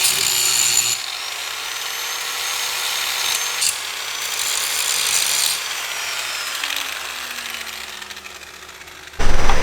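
Power tool cutting big chunks off a subframe part for a 1JZ-swapped FD, a steady harsh grinding-cutting whine that runs nearly the whole time with brief dips, ending in a sudden louder burst.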